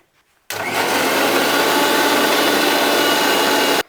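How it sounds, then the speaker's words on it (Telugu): A kitchen mixer grinder whirs at full speed while cooking with a mother-in-law, starting abruptly after a brief pause and running as a loud, steady, dense grinding roar before cutting off at the end. "సో ఇప్పుడు మిక్సీలో దీన్ని గెర్రమని తిప్పేయడం"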